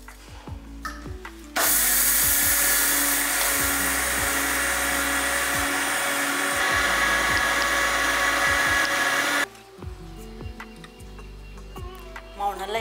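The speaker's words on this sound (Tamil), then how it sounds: "இப்போ இதை மிக்சி ஜாரில் போட்டு அரைச்சிக்கலாம்." Mixer grinder running continuously for several seconds as it grinds soaked rice into flour in a mixie jar for athirasam dough, a loud steady whirring roar with quieter handling clatter before and after.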